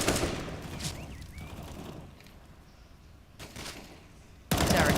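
Gunfire in a Counter-Strike: Global Offensive professional esports match on the Cobblestone map, a few sharp bursts at the start and end with quieter distant shots and game ambience between them.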